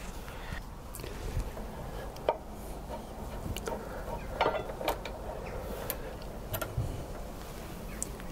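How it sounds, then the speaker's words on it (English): A ratchet fitted with an extension bar works a front brake bolt on a Kawasaki ZXR750H1 motorcycle, giving scattered clicks and sharp metallic knocks against low background hum, close and fairly quiet. "So I'm just gonna put a bit of a extension bar on it."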